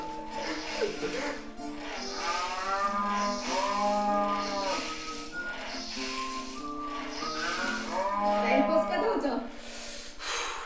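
Cartoonish cow moos from the milking minigame of the Nintendo Switch game 1-2-Switch, long, warbling, pitched lowing calls repeating through the stretch, heard alongside game music or voices.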